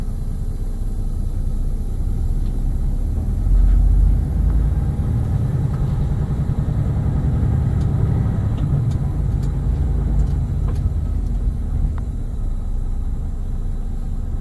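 A truck hauling a trailer idles with a low, steady diesel rumble and then creeps forward once the trailer brakes release, with faint clicks and light ticks above the engine drone during a pre-trip inspection.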